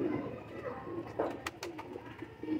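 A male Ferozpuri pigeon coos close by in a few soft, low, throaty bursts, with faint background noise between calls.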